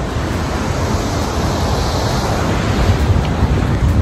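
A waterfall in the countryside near Hemsedal, Norway, makes a loud, steady, close roar of rushing water. The noise is unbroken and even, with a windy hiss, and no voices are heard.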